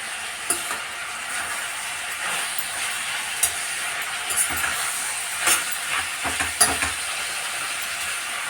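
Chopped tomatoes frying in a pan of softened vegetables while being stirred, a steady close sizzle with scattered scraping clicks from the spoon, no talking.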